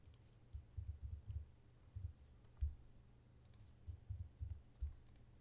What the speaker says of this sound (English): Just using my arrow keys a little bit.